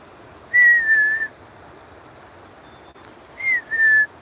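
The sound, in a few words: bird whistling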